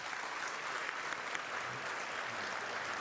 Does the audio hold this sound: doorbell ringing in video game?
no